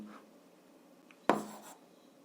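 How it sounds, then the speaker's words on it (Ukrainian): Pen or pencil writing down an answer in an algebra lesson, a faint short scratching stroke followed by a louder brief scribble near the end, in an otherwise quiet room. "Записуємо відповідь, пишемо відповідь."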